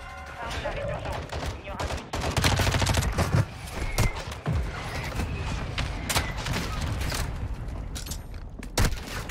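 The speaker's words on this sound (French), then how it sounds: "Frappe de mortier aussi." Mortar strike explosions in an Activision shooter video game land as a string of sharp, loud blasts and cracks mixed with bursts of gunfire, irregularly spaced across the whole stretch.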